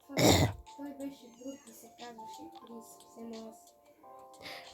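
One harsh, throaty cough up close, followed by quiet tonal music playing softly.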